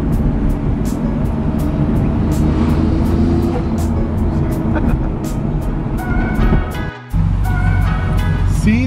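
A car's engine drones steadily while driving, a loud continuous roar with rhythmic ticking and a brief dip near the end, as people talk over it.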